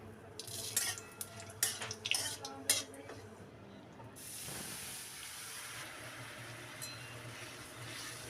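A spoon stirs bay leaves and whole cumin in mustard oil in a kitchen pot, giving several clinking scrapes, and then a steady soft sizzle and hiss takes over for the second half.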